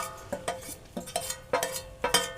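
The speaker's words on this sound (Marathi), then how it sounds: "तर आता आपण त्याच्यामध्ये टाकणार आहोत आपलं एक ओलं खोबरं. आणि ढवळत राहायचं" Fresh grated coconut being stirred into melted sugar in a pan for narlipak, a sweet: a few distinct spoon scrapes and knocks against the pan at an uneven pace, close and fairly quiet, with no talking.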